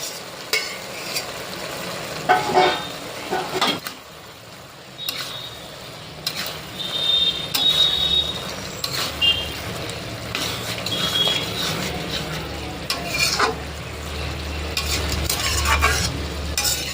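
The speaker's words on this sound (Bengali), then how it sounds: "এবারে চিংড়ি মাছগুলো দিয়ে দেবো।" Prawns sizzle in a pan of bottle gourd curry while being stirred, with a continuous frying crackle and scraping and clinking stir strokes throughout, close and moderately loud, with no talking.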